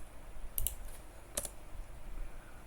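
Keystrokes on a computer keyboard while a command is entered in a terminal, a few quick clicks in two short bursts over a faint room hum, no voices.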